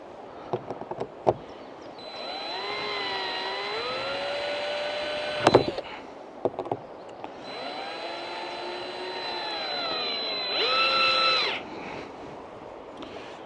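A power drill drives screws into soft material in two long whirring runs, each rising and steady, separated by short clicks and knocks, close and fairly loud with no talk.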